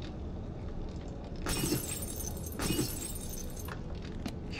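In the 7 Days to Die Alpha 17 survival game, two bright crashes of breaking glass land about a second apart, loud and sharp over a steady low background hum.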